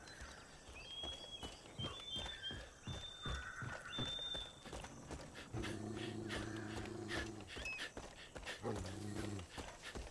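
A dog pants in rapid rhythmic bursts in Far Cry 5, close and fairly loud, with quick breathy huffs in short clusters over faint game background sounds.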